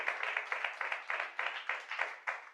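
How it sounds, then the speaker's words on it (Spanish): A church congregation applauding together in a steady burst of many hands clapping, fairly close and even in rhythm, with no voices over it. "Denle un fuerte aplauso al Señor"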